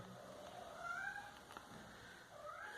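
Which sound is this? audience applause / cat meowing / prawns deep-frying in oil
cat meowing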